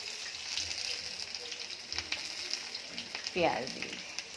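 Onion and potatoes sizzle steadily in a pan as they are stirred, with a soft scrape near the end and no talk.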